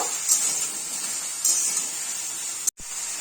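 Pointed gourd (potol) frying in a pan for a mashed potol dish, giving a steady sizzling hiss with a few brief louder spits and a short cutoff near the end.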